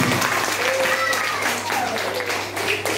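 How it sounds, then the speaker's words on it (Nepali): An audience claps at a Bhanu Jayanti celebration held by a Darjeeling village society. The clapping is a dense patter that runs under a voice talking over it. "ताली बजाइदिनु जोडले तपाईहरुले प्लिज"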